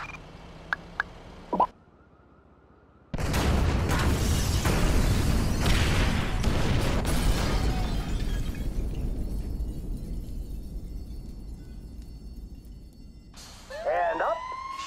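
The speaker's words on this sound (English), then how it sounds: "All right, trigger the firebombs, Frank" Firebombs go off at a building during the FIB heist in GTA V on PS4, a sudden loud blast with crashing, shattering debris that rumbles and fades, framed by emergency radio chatter and a rising siren near the end.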